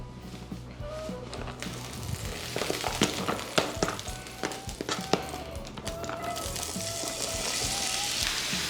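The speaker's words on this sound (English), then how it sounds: "now we can take our corn and add it to the skillet" Corn added to a hot skillet with bacon fat sizzles and crackles steadily, with scattered sharp pops and occasional clinks of a utensil against the pan, growing into a fuller hiss toward the end.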